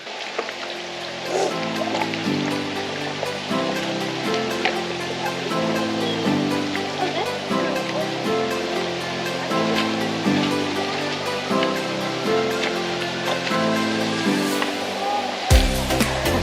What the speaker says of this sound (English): Emma Gorge waterfall.